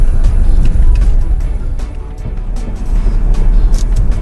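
Jeep driving off a paved road onto gravel, a loud close engine and road rumble inside the cabin with crunching tire noise, swelling and easing as it rolls along.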